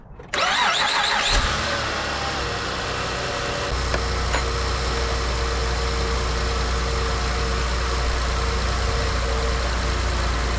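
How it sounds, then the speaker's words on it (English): A car with a suspected battery or alternator fault cranks with quick whirring starter bursts, catches and settles into a loud, steady idle that runs on without talk. "once we start the car"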